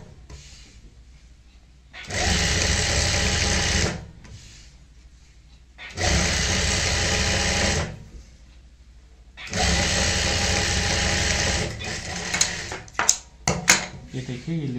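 Sewing machine stitching lace onto a Pakistani salwar, three separate bursts of steady whirring run about two seconds each, separated by quiet pauses, followed by a few sharp clicks and knocks.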